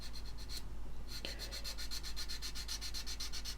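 Sandpaper of a finer grit rubs back and forth along the seam of a plastic model kit, a steady run of quick, even scratching strokes, close and continuous with no talking.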